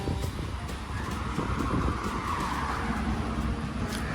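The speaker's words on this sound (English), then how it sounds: "Here goes the G55, the G-wagon, 2010." A 2010 Mercedes-Benz G55 AMG G-wagon pulls away, its engine and tyre noise forming a steady, fairly close roar that holds through the whole stretch with no one talking.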